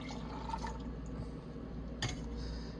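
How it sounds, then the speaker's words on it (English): Moscato wine is poured into a glass in a soft, steady liquid trickle, quiet and close, ending with a small clink. "We're gonna add 4 ounces of Moscato"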